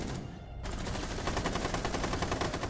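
Sustained automatic gunfire in the video game Rainbow Six Siege, a dense, continuous rattle of rapid shots that starts quieter and builds to a loud, unbroken burst lasting the whole stretch.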